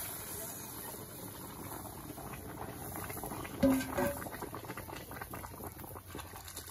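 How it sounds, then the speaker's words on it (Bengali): Sour dal with raw mango poured into a pan of black mustard seeds, bubbling and pattering steadily up close, with one brief splashy surge midway. "এবার ডাল ঢেলে দেওয়া হচ্ছে।"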